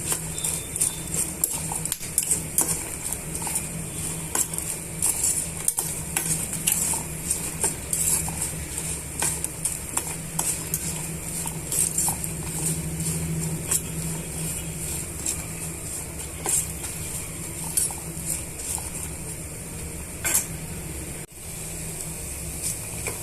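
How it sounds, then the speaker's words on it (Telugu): Peanuts, dried red chilies and tamarind fry in a pan, giving a steady, close crackle and sizzle with scattered sharp clicks and scrapes throughout, and no voices. "కొంచెం చింతపండును కూడా యాడ్ చేస్తున్నామండి ఇవన్నీ కూడా బాగా వేయించేస్తున్నాము"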